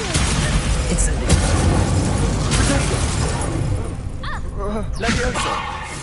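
A fire spell cast in Hogwarts Legacy bursts with a loud, dense crackle and boom that fills the whole moment, with a shattering sweep near the end and game voices calling out over it.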